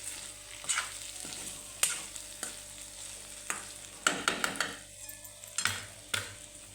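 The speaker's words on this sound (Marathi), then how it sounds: "आपली भाजी आता तयार झालेली आहे आणि मिक्स करून घेऊ" Cabbage and cauliflower dry vegetable being stirred in a pan, a steady soft sizzle broken by repeated scraping and clinking strokes of the spoon, close and fairly quiet, with no talking.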